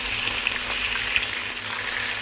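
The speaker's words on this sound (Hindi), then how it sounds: "गोश्त को अच्छी तरह से यहाँ पर 3 से 4 मिनट तेल में फ्राई कर लेंगे" Red meat fries in hot oil in a pot for masala dum biryani, a steady, loud hiss and crackle of sizzling with occasional pops, continuous and heard alone.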